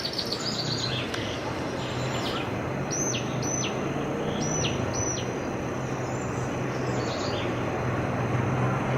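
Several short high chirps from a small bird outside a shower window, repeated in brief bursts over steady running shower water.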